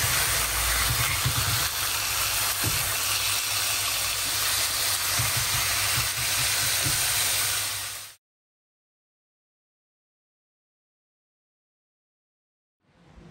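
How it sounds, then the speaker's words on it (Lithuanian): Cleaned squid sizzles loudly on a hot grill pan, a dense, steady hiss and crackle that runs for about eight seconds before cutting to near silence. "Nu štai gražiai praskėčiau ir dabar kepsiu ant grilinės keptuvės"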